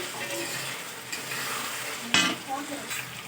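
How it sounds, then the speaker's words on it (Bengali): Fried potatoes being stirred in spiced oil in a pan, with a continuous sizzle, soft scraping and a sharp clatter of the spoon against the pan near the end. "আলুগুলো একটু নাড়াচাড়া করে নিয়ে তারপরে দিয়ে দেব ফুলকপিগুলো"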